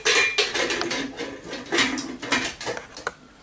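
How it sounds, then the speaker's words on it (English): Lid of a pressure cooker being fitted on for lentil soup, with a string of close metallic clanks and scrapes, fairly loud and irregular with no talk. "The lid goes on"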